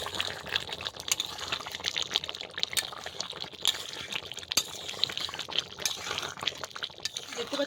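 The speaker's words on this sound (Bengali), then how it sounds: "ভালো করে একটু নাড়িয়ে নেব" Prawn-head and banana flower curry with garam masala being stirred in a pan: a steady wet sizzle with soft scraping and bubbling, faint and continuous with small clicks of the utensil.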